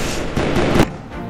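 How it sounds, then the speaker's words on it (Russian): Fireworks launched in the Roblox building game Build a Boat, a dense crackling burst of game explosions with a sharp bang near the end, fairly loud and close. "По традиции запускаем эпичный салют."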